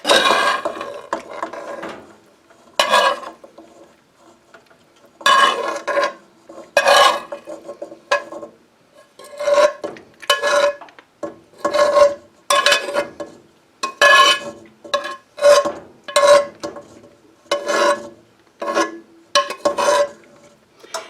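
Ground hamburger and peppers stirred into cooked noodles in a pot, a run of scraping, clattering spoon strokes against metal coming in uneven bursts with short pauses, close and fairly loud, no talking.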